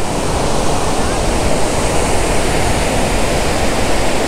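Loud, steady roar of water rushing through large man-made waterworks in Chai Nat, Thailand, a dense, continuous torrent heard up close and filling the whole clip.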